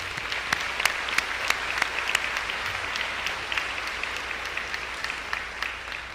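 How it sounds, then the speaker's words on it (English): A crowd applauds a college graduating class at a 2023 commencement ceremony, with steady sustained clapping and sharp individual claps standing out throughout. "Give yourself a big round of applause."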